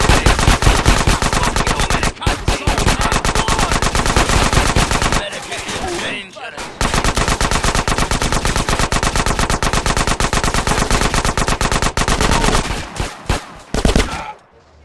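Rapid automatic gunfire from the video game Grand Theft Auto San Andreas, loud and nearly continuous bursts lasting most of the stretch, with a brief gap midway and a short break near the end.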